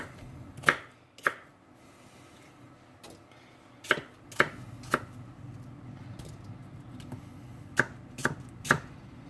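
A knife slices the peel off an apple while making an old-fashioned brown betty, giving about nine sharp, separate cuts in irregular bursts against a quiet kitchen background, with no talking.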